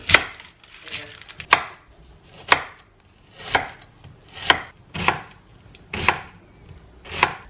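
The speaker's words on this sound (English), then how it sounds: "So I've got onion, carrot, celery all diced really finely" Onion, carrot and celery being finely diced for a veggie lasagne, with a quick burst of knife strikes on a board followed by slower, evenly spaced single chops, close and clear.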